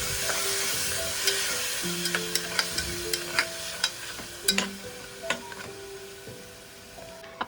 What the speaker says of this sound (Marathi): टोमॅटोची प्युरी घालून घेतोय ती सुद्धा छान अशी आपण भाजून घेणार आहोत